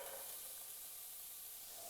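Vegetables hit hot vegetable oil in a large pot, giving a faint, steady sizzling hiss with no talking.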